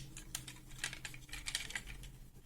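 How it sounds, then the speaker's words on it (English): Hello Carbot Giant Loader toy robot plastic parts clicking as it is transformed, a quick irregular run of small sharp clicks and snaps, close and faint with no talking. "straighten out the elbows and click them into place"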